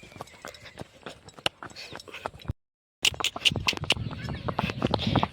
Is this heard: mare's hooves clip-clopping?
yes